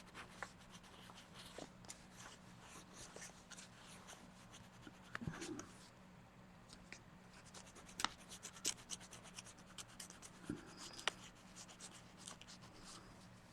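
Colored pencil rubs and scratches across paper in an adult coloring book, faint and close, as a steady run of soft strokes broken by sharper scratchy taps, with no talking.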